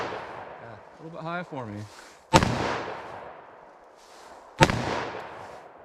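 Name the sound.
gunshots from short-barrel .327 Federal Magnum or 9mm, point shooting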